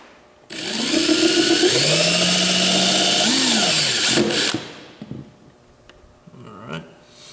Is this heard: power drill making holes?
yes